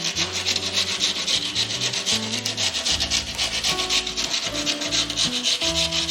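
Steady scratchy rubbing of sandpaper on wood, continuous and close, with no voices.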